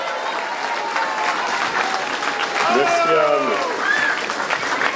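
Audience applause at a live nativity church event, a steady wash of clapping from the gathered crowd with someone speaking over it and a brief rising tone.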